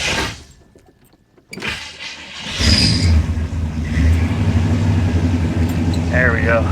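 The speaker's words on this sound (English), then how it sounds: "I'm actually going to try to lift the car with the airbags and see if we can get it to come up off that bridge jack." Air suspension airbags on a 1965 Cadillac inflate to raise the car off a bridge jack. After a brief quiet gap, a steady loud whooshing and whirring of air builds and holds close by, with voices.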